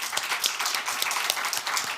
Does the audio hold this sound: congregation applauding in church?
yes